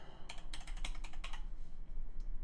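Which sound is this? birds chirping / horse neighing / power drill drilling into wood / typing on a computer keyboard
typing on a computer keyboard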